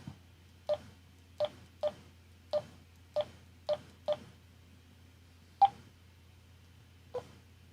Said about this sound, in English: Let me try the dialing in Joe's number now